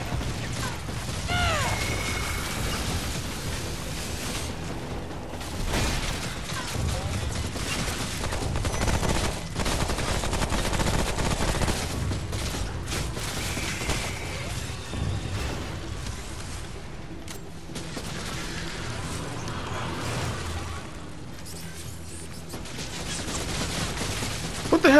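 Automated turret gunfire in the video game Remnant: From the Ashes, sustained rapid bursts of shots layered with explosions and combat effects, dense and loud throughout.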